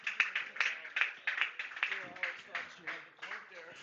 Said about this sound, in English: You could hear the crowd's appreciation of that rally.